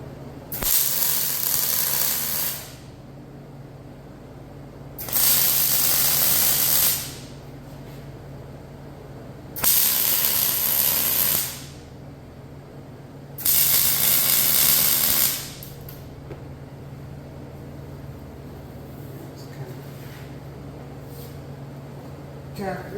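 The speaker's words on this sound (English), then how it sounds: "And basically start welding this in" Welding on an old crusty welding table: four bursts of loud, bright hissing crackle of a few seconds each, separated by quieter gaps with a steady low hum underneath.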